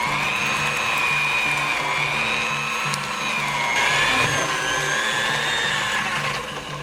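An electric mixer creams butter with brown sugar for a Dundee cake, giving a steady, close motor whine with a slight wavering pitch that runs continuously without talk.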